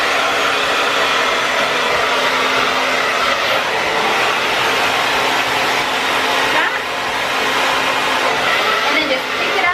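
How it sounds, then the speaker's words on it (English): A hand-held blow dryer drying hair, a steady loud whirring rush of air running continuously with slight shifts as it moves through the hair. "take your blow dryer and we're gonna blow dry up and forward"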